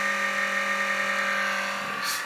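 A faulty laptop blower fan in a Toshiba Satellite U50D-A drones with a steady, buzzing whine, constant and close, with a brief hiss near the end.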